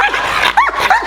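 A Rottweiler at a dog farm gives a few close, loud yipping barks and whines in quick succession.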